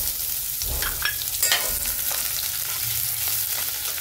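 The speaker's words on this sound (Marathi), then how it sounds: "कांद्याला परतून घेऊ चांगलं। कांदा चांगला कलर बदलेपर्यंत आपल्याला परतून घ्यायचा आहे।" Onion frying in a pan with cumin and curry leaves: a steady, dense sizzle with scattered crackles and light stirring scrapes throughout.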